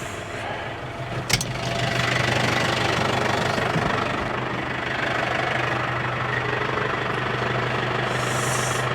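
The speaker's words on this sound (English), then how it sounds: "Remember what I was saying about not putting the skid steer away just yet?" A skid steer's diesel engine runs steadily nearby with a rough, knocking idle and a constant low rumble, broken by a short sharp clank early on.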